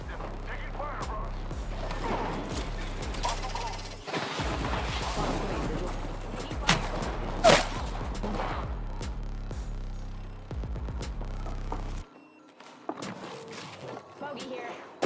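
Rapid gunfire crackles in Apex Legends ranked play, with dense bursts of shots and impacts over about twelve seconds, then a quieter stretch, while a player talks over the action.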